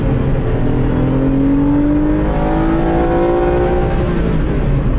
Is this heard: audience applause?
no